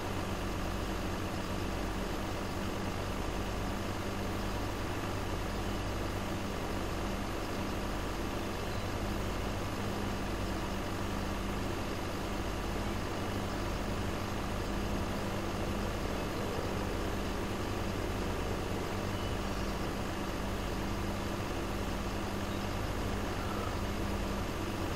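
A farm vehicle's engine idles steadily for a long stretch, a low continuous rumble at moderate distance with no talking.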